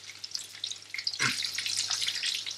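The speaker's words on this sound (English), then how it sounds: "5 minutes in the frying pan, you've got pheasant goujons." Soft, steady sizzling and crackling of pheasant goujons frying in a pan, with a brief louder burst partway through.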